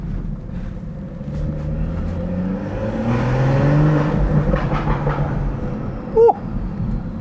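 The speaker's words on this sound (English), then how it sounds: "Turbo is just spooling up" A BMW B58 engine burbles and revs steadily with a rising whir of the turbo spooling, ending in a brief sharp pop.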